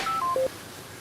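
A telephone is dialed for a call: a quick run of short electronic dial tones, three distinct beeps stepping down in pitch, close and clear, followed by a quiet line with no talk.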